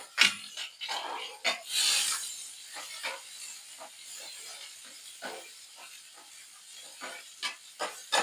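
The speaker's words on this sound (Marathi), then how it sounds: "कांदा थोडंसं परतून घेऊया आपण." Onion frying in a pan while beans bhaji is cooked, giving a steady close sizzle and hiss with scattered crackles and pops, no talking.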